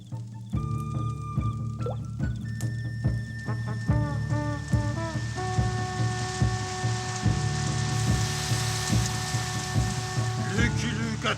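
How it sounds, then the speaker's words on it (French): Rain patters steadily on a surface while a fire is put out, with a constant low hiss beneath scattered drips and intermittent tonal sounds layered over it; no speech is audible. "Maintenant, la pluie va venir et va éteindre le feu."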